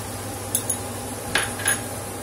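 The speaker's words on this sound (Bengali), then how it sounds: "এবারে ঘিটা দিয়ে দিই 1 চামচ।" A spoon taps the rim of a pot a few times as a spoonful of ghee goes into papaya curry, with light metallic clinks over a low steady background hum.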